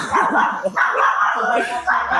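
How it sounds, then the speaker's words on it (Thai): A dog barks in short, sharp yaps and yips, some close and some farther off, over a steady background while a person talks throughout. "อันนู้นก็หมาเห่าอันนี้ก็หมาเห่า"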